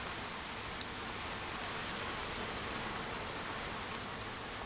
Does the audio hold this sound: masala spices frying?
no